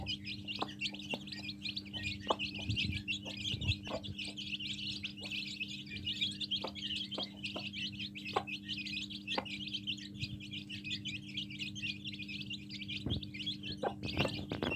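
Dense, continuous high-pitched chirping from many Pekin ducklings and chicks, steady throughout, with occasional sharper peeps standing out against a low background hum.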